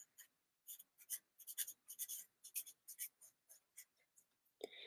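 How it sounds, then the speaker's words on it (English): A marker squeaks across a small sticky note in a quick series of short, close strokes, some bunched and some spaced out, ending with a soft tap, and no one speaks. "I'm going to write Mrs. Pagnotti on one so I can show you."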